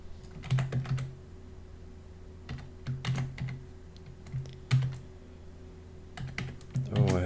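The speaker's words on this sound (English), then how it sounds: "I hope I don't type it incorrectly." A password entered on a computer keyboard while installing Linux, with clusters of quick, close key clicks separated by short pauses and a steady low hum underneath.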